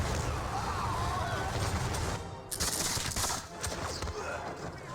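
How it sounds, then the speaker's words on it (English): Musket volley in a Napoleonic battle game set at Talavera, a dense crackle of many shots rolling together over a noisy battlefield bed, with a sharper burst partway through. "Not a bad volley."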